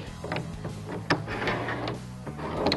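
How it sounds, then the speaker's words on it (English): Metal cargo cleats on a pickup truck bed rail are loosened and slid out, giving a series of close scraping, clicking and sliding knocks with a sharp clack about midway through. No one speaks. "You just loosen them out, and then they'll slide right out of the back"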